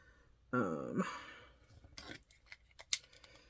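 Scissors snipping through fabric scraps to trim a mug rug border, a few short cuts heard close up with quiet handling between them.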